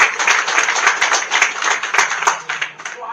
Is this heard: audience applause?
yes